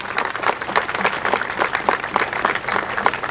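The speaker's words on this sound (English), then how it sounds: "So how about a big round of applause for Rutgers University, birthplace of college football" A large ceremony crowd at Rutgers University applauds for college football's 150th celebration, a dense, steady wash of many hands clapping that stays loud and even throughout.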